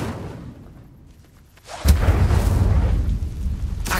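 A burst of spell fire erupts from the Incendio charm in Hogwarts Legacy, a sudden loud whooshing blast that roars on steadily for about two seconds after a quieter lead-in.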